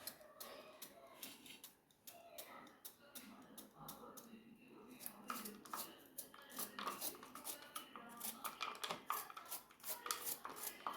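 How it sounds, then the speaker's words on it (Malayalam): A knife finely chopping deseeded bitter gourd on a board in a home kitchen, quick uneven taps at close range that grow denser and louder toward the end, with a voice talking over them. "ഉള്ളിലത്തെ കുരുവൊക്കെ കളഞ്ഞ് കഴുകി വെച്ചാൽ നമ്മളത് കൊത്തി അരിയുക"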